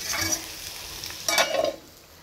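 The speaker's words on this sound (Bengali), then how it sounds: "এখানে পেঁয়াজ আর কাঁচা লঙ্কা দিয়ে আলু উচ্ছে ভাজা হচ্ছে" Potato and bitter gourd fry with onion and green chilli in a pan, a soft steady sizzle with a brief louder scrape of stirring near the middle, close up and without talk.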